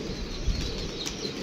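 Pigeons burst into flight with a quick flurry of flapping wings, a short, fairly faint rustle with no voices over it.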